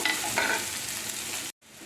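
Fish fat frying in oil in a pan, a steady close sizzle with faint stirring that drops to silence for a moment before the sizzle resumes more quietly.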